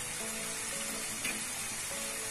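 Sesame-filled karanji, sweet stuffed dumplings, frying in hot oil over a medium gas flame, a steady close broadband sizzle with no voices.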